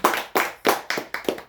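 Six sharp claps in a slow, uneven rhythm during a Pentecostal church service, close and fairly loud, with no talking.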